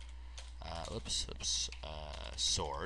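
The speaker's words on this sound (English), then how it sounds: "So I'm going to type in drop" Keys clack in quick bursts on a computer keyboard while someone talks over them, setting up a text trigger in a game client.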